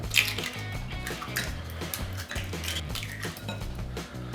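Melted butter, sugar and four eggs being mixed in a bowl for a marbled cake produce a continuous rhythmic scraping and clinking of a utensil against the bowl, close and fairly loud, with no talking.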